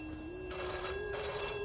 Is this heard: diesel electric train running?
no